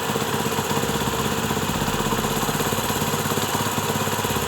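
A Honda CD 70 motorcycle engine idles steadily during carburetor petrol tuning, a close, even putter with a fast regular pulse and a constant level for the whole stretch, no voices over it.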